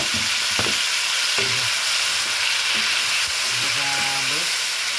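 Tomatoes frying in hot oil with cumin, being cooked for a pickle to serve with buff shapale and momos, make a continuous loud sizzle, and a few clinks and scrapes of stirring come through over it.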